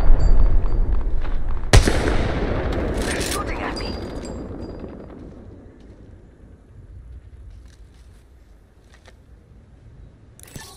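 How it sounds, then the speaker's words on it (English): Gunfire in the battle royale shooter Apex Legends: one sharp, loud shot cracks early amid a rumbling firefight, followed by a few more scattered reports that gradually fade into quieter background noise. "Listen up, I'm getting shot at."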